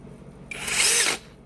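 A TZ Z90 rechargeable brushless drill triggered briefly: a sudden rising whine that holds steady for about half a second, then cuts off, loud and close with no voices.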